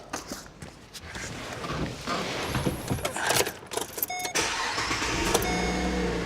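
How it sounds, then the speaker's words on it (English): Keys jangle, then a car engine cranks and catches, settling into a steady idle that continues to the end. "Now I'll go and start the car."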